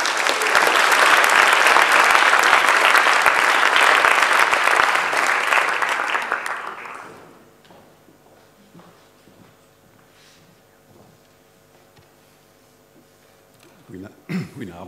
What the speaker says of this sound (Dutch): Een applaus graag voor professor Paul Verhagen.